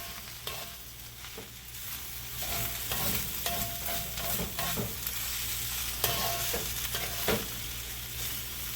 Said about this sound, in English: Now I'm going to add these aromatics back. Okay, once we get these aromatics back in there,